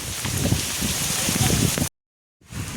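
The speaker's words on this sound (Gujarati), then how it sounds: "અહીંયા વરસાદ ચાલુ થઈ ગયો છે" Steady heavy rain pours down in a farmyard, a dense close hiss of drops on the ground and surfaces. It cuts out briefly to silence and then resumes.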